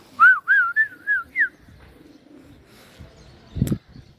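A short run of soft, rolling coos repeats five times in quick succession, followed by quiet background sounds and a dull thump.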